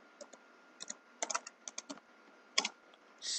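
Clacks of a computer keyboard as code is typed, arriving in short uneven clusters of keystrokes, close and quiet against a faint background hiss.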